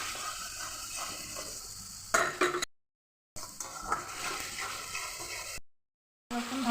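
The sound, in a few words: garlic paste stirred and sizzling with fried onions in pan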